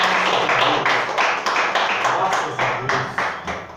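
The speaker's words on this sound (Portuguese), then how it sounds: "então aplauda em nome de Jesus" A church congregation claps together in a steady, fairly loud burst of applause during a sermon, rhythmic pulses filling the space for several seconds.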